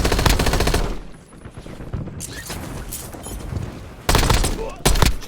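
Rapid automatic gunfire from Call of Duty Warzone, loud and close, in dense bursts at the start and again near the end, with quieter in-game sounds and faint voices between the volleys.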